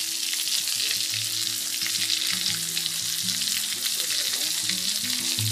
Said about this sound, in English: Here it's sizzling, bubbling.